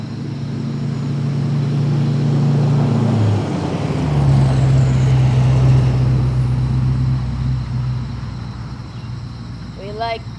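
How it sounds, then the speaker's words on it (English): Big diesel trucks rumble past with a loud, sustained engine drone that rises and shifts pitch as they go by, under nearby talking outdoors. "We like big diesel trucks."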